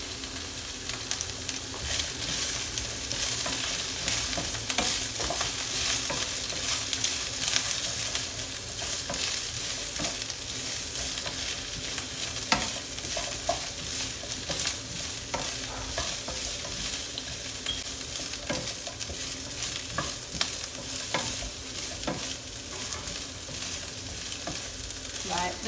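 Chicken stir fry sizzling and frying steadily in a pan over lowered heat, with occasional stirring scrapes and clinks over a continuous hiss, close and even throughout.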